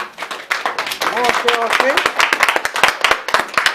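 An audience claps at a graduation ceremony: a loud, continuous patter of many hands, partly covered by a voice speaking over it.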